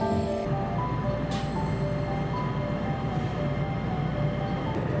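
A JR Hanwa Line local electric train rumbles steadily from inside, with a rising motor whine and a few rattling clacks as it pulls away from Uenoshiba Station at night, no voices.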